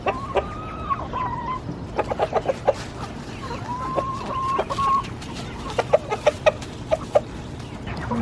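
Chickens cluck in short, scattered bursts nearby, with a few drawn-out calls, against a quiet outdoor background.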